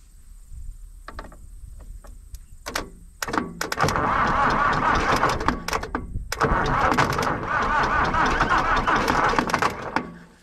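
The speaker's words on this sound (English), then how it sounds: "I'll try grab something and short the starter motor out, eh? See if we can get this fired up." A diesel engine with unheated glow plugs cranked by shorting its starter motor with a pickaxe: several sharp clicks and short stabs of cranking, then long sustained churning runs of the starter, loud and close over a quiet yard background.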